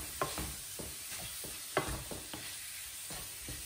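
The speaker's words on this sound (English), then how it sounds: "I'm going to mix that really well" Lamb and onion mixture being stirred in a pan for gosht do pyaza, with soft irregular scraping strokes over a low steady sizzle and no talking.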